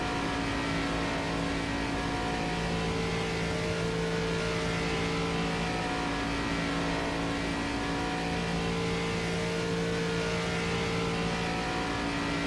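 Race car engines at Talladega in a racing game, a steady loud drone of revving motors with climbing RPM, sustained throughout with no pauses.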